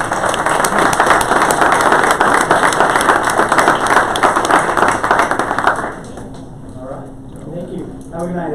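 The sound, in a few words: audience applause for a panel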